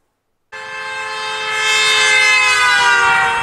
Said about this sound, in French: écouter ce qui se passe lorsqu'une voiture qui klaxonne s'approche d'un micro